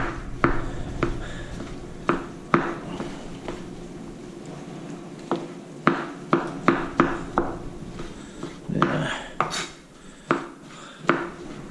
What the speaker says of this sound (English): I'm gonna go ahead and use this knife and go ahead and cut this up into